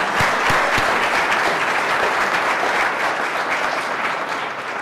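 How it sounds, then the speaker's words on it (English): Steady audience applause fills a hall during the 2018 Grand Rapids State of the City address, dense sustained clapping from a large crowd with no talk over it. "we should applaud for that"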